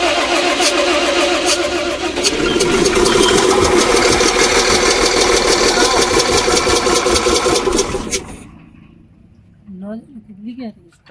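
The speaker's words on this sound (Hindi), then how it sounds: "इंजन स्टार्ट हुआ है।" An Ashok Leyland H-Series six-cylinder diesel engine under repair with an oil leak starts with a steady loud churning clatter for about eight seconds, then cuts out, followed by someone talking nearby.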